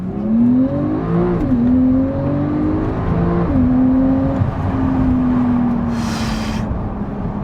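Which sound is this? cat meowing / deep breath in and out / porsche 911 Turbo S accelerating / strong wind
porsche 911 Turbo S accelerating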